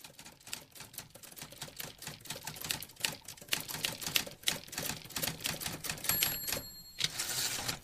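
A typewriter is typed on briskly, with dense rapid key strikes in an uneven rhythm, several brief pauses and a bell-like ding near the end.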